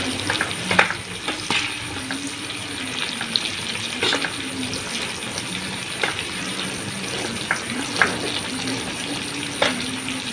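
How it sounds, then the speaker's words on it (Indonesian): Sambal ingredients sizzle steadily in hot oil, with occasional stirring clatters and soft scrapes, a continuous close frying sound with no talk. "sekarang kita goreng ininya, bahan sambalnya"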